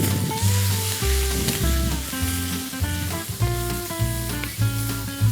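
Chopped parsley, chives and tomatoes are stirred in a hot pan, a steady sizzle with stirring sounds running beneath prominent background music.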